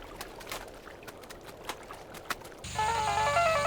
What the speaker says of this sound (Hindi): ये स्मिता इस वक्त फोन क्यों कर रही है?